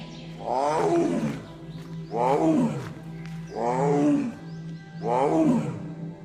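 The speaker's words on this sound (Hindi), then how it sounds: "बाघ की दहड़ सुनाई देती है" A tiger roars four times in a slow, even rhythm. Each deep, rumbling roar swells and fades before the next, loud and close.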